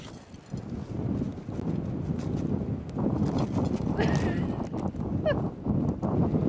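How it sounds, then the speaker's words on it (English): Gusty wind rumbles steadily against the microphone at an outdoor studio in Pyeongchang, with occasional faint voices and a brief high squeak in the background. "It's quite windy"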